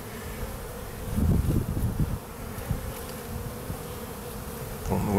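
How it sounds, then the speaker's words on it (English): Honeybees swarm around a large, busy hive while foragers bring in pollen, a continuous close buzzing hum that swells slightly as individual bees pass near. "the big hive over here, it's got a lot of activity going on"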